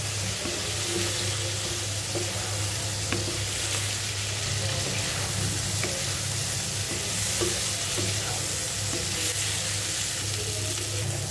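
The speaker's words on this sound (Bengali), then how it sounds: "মিডিয়াম আঁচে আমি পেঁপেগুলোকে এই তেলের মধ্যে খুব ভালো করে ভেজে নিব" Sliced papaya fries in oil over medium heat for a fish and papaya curry, a continuous even sizzle with faint clinks throughout and no voices.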